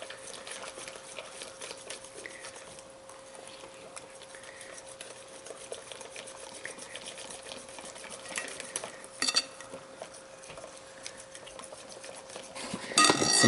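A spoon stirs a flour and water slurry in a bowl, scraping and swishing steadily and close, with a faint continuous hum behind and a louder clatter near the end.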